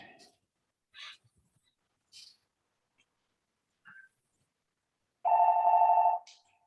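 Phone ringing during an online neighborhood council port committee meeting, a single loud electronic ring near the end after a few scattered short sounds and brief speech.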